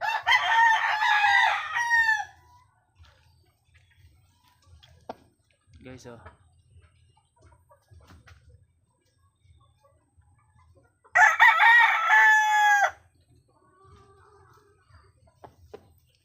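Large, tall long-legged roosters crowing in a small backyard poultry pen, two loud crows at the start and again later, with quiet clucks and scratching between and someone speaking briefly.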